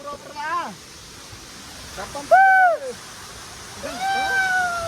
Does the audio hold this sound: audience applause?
no